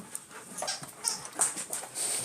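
A dog whimpers softly in a run of high, thin whines, several short cries repeating over a low background hiss.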